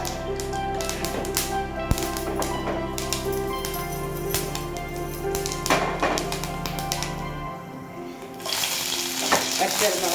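Mustard seeds with fenugreek popping in hot coconut oil for an onion fish curry: rapid, irregular crackles and sharp taps over a constant sizzle, close up, with a low steady hum underneath.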